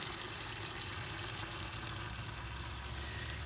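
Fluid pours steadily out of a Freightliner truck's reservoir tank after its valve is opened, a constant close hissing, splashing stream without breaks.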